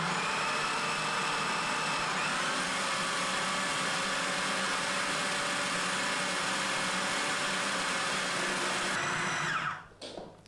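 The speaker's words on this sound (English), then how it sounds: "We're going to blend everything until we have a dough formed." A blender runs hard and continuous as it works red lentil bagel dough with oil and lemon juice, a loud steady whirring motor that cuts off abruptly near the end.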